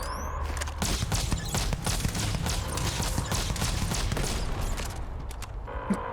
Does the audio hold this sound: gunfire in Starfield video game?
yes